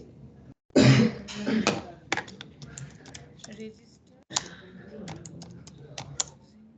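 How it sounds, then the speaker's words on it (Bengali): Keyboard typing as a message goes into a chat during a React authentication coding session: bursts of quick, close key clicks with pauses between them, alongside some speech. "আমি ওটাকে জাস্ট চ্যাটে লিখে দিচ্ছি।"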